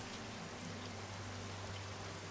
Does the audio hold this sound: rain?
yes